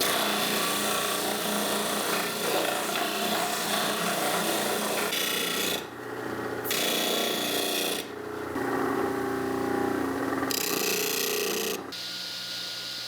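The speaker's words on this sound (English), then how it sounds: "Later I would come back with the disc sander to sneak up to the line." A disc sander grinds against the edge of a plywood disc, a loud continuous rasping whir that drops briefly in pitch and tone as the piece is pressed and eased off the abrasive.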